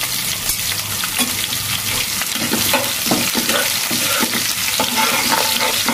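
Onion, green chilies and whole cumin fry in hot oil for dal, producing a loud, continuous close sizzle with crackling bursts as the pan is stirred, and no voices.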